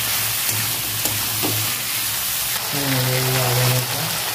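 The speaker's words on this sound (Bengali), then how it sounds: "লবণ দিয়ে দেবো, ভালো করে ভেজে নেব।" Potato, pumpkin and greens frying in a pan for Bengali kumro shaak ghonto, with a continuous close sizzle, stirring scrapes and a few clinks, a voice briefly heard near the end.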